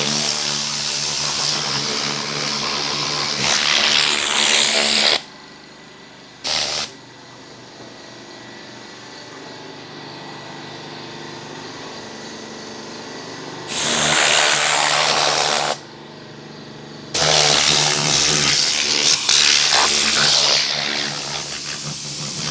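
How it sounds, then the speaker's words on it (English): Air compressor at about 90 psi driving a Tornador mini blowgun, blasting out a car engine bay in loud bursts of harsh hissing air, separated by quieter pauses and one short puff. "So now I'm going to blow it out. Take my air compressor, about 90 psi, with my Tornador mini blowgun."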